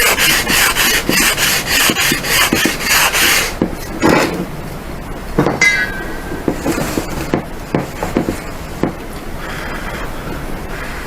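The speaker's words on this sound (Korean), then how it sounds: "주변 생긴 것까지 넓게 부드럽게 샌딩을 해줍니다." A plastic car center fascia being sanded smooth around filled holes, first with rapid rhythmic back-and-forth rasping strokes, then with slower, sparser scrapes and rubs, close and fairly loud, with no talking.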